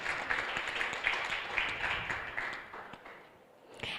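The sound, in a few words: applause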